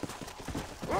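Horse hooves clip-clopping in the video game Red Dead Redemption, a short run of quick, evenly spaced hoof beats at moderate volume, with a brief higher tonal sound near the end.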